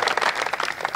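A brief burst of audience applause: many hands clapping together in a dense, even patter, close and fairly loud.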